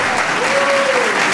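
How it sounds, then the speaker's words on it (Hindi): A church congregation at a Christmas service applauds loudly, a thick, unbroken roar of clapping filling the space, with a faint voice briefly rising over it. "ये आपकी जरा जोरदार तालियां, थोड़ी कम तालियां।"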